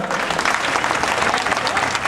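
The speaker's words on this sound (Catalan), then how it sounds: "Per tant, un aplaudiment també pel Manel" Crowd applause for the giant maker Manel at a giant christening in Maials, a dense, steady wash of many hands clapping close by throughout.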